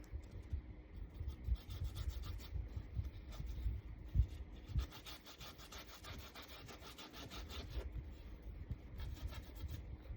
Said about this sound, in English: Because the more you rub this on, you're gonna rub a hole.